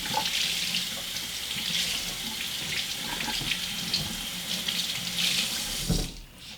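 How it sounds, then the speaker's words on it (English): Water streams steadily from a sink faucet onto a sponge, a continuous close hiss and splash that cuts off abruptly near the end. "I'm going to have to get my sponge full of water"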